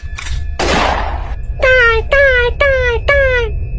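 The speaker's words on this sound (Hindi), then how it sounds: "गोली चला देते हैं" A single cartoon gunshot sounds as a loud, rough burst, followed by four short, evenly spaced yelping calls.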